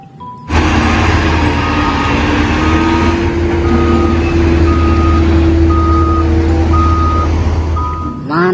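A toy sand truck gives a steady run of evenly spaced electronic reversing beeps, loud and close over a constant motor hum that starts abruptly and cuts off near the end.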